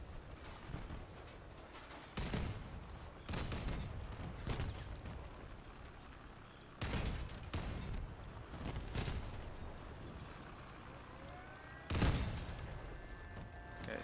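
Tank cannon fire in the vehicle combat game Crossout: several heavy booming shots spaced a few seconds apart over a rumbling engine-like background, moderately distant.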